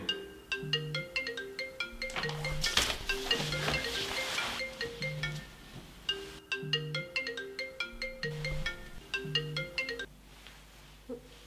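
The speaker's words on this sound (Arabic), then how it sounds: "موبايلك بيرن" A mobile phone ringtone plays a repeating melodic tune, loud and close, with a brief noisy burst partway through and no one speaking.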